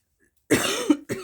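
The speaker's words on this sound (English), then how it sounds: "sorry about the coughing" Two harsh coughs close to the mic, the first drawn out and rasping, the second short and abrupt, with no talking.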